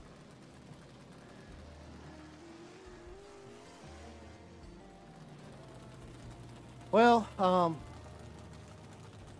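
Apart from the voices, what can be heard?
car driving in video game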